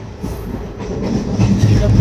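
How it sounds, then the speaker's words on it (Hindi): Passenger train arriving at Surat station in India, a rumbling rolling clatter with low squealing wheels that grows louder toward the end, with faint voices in the background. "हमारी ट्रेन सूरत पहुंच गई है और अब हम भी सूरत स्टेशन पे उतर रहे हैं"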